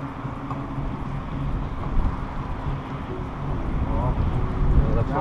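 A fishing boat's motor runs steadily on the Sacramento River near Isleton during salmon fishing, a constant low drone with wind noise over it that swells a little toward the end.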